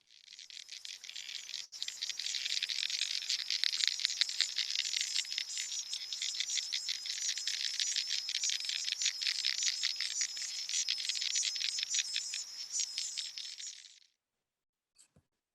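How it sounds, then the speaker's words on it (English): Underwater insects, including a water beetle skimmer, in a small creek produce a dense, steady stream of rapid high clicks and ticks that continues evenly for about fourteen seconds before stopping abruptly. "a water beetle, a skimmer"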